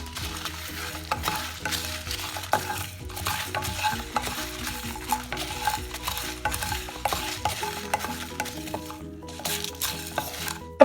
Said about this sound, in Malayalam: അതിലേക്ക് നമ്മൾ ഈ മസാലകളെല്ലാം, അതായത് വറ്റൽമുളകും മല്ലി, ജീരകം, കറുവാപ്പട്ടയും ക്ലോവ്സും, ഇത് ഒന്ന് നമ്മൾ ഡ്രൈ റോസ്റ്റ് ചെയ്തെടുക്കാം.